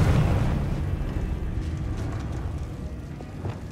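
A Confringo fire spell bursts in Hogwarts Legacy, a loud low rumbling blast that decays slowly into a sustained roar over several seconds, with no voices.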